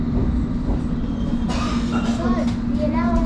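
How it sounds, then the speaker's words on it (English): A London Underground Metropolitan line train rolls into its final stop with a loud, steady rumble and a low hum, with brake squeals and faint voices rising toward the end. "So, we are now arriving into Cheshire, our final stop."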